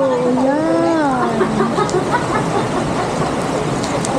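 Rain falling at an outdoor swimming complex in Jurong East, Singapore, a steady broadband hiss throughout, with a voice speaking over it near the start.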